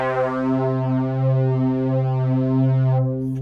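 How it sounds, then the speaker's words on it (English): Simple synth lead from an Analog Lab preset in a dark textured beat, a smooth sustained tone slowly shifting pitch with gentle swells, playing alone at moderate volume before cutting off near the end. "And after this I add this simple lead"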